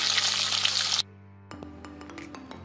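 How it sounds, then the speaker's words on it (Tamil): Curry leaves hitting hot oil in a pan, a loud hissing sizzle that drops away abruptly, followed by quieter sputtering and faint clinks. "கருவேப்பிலையும் நமக்கு நல்லா பொரிஞ்சு வரணும்."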